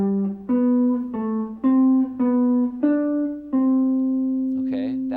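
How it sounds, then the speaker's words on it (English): Guitar playing a diatonic thirds scale sequence at a quicker tempo, clear single notes stepping upward alone and close, ending on a long sustained note. "Okay, that's called diatonic thirds."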